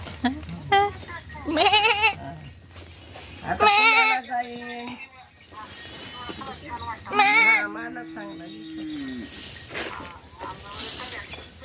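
Goat bleating loudly and close by in a rural farmyard, several wavering cries in bursts spread across the stretch, with a person talking in between.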